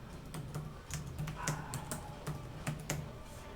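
Computer keyboard typing into a code editor's settings search bar, a quick uneven run of clicky keystrokes with brief pauses, close and moderately quiet, no speech.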